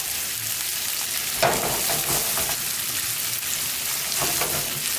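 Onions fry in a pan for shrimp saganaki, a steady, close sizzle with occasional louder crackles and stirring, with no voices.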